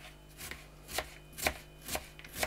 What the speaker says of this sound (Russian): Принеси лучок. Сейчас я его нарезаю.